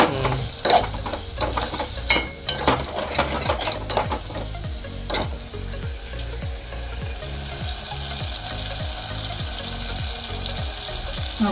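Tomatoes stirred and cooking down in a pan, a loud continuous sizzle with repeated rhythmic scraping strokes of the spoon early on, then steadier bubbling and frying, no voices.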